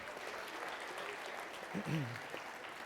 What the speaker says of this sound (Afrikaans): kom ons gee vir hulle 'n lekker hande klap